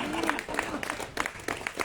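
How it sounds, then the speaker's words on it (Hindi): Audience clapping at a ghazal recitation in several languages, brief bursts of hands clapping mixed under a talking voice, moderately loud and uneven across a short span. "देखो भाई तालियां बजाओगे तो सुनाऊंगा"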